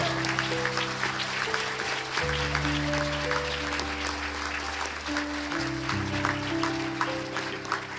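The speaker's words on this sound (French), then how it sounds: "On les applaudit, bien sûr." Steady applause fills the space at a university graduation ceremony while sustained organ-like tones hold underneath, the clapping continuing evenly throughout.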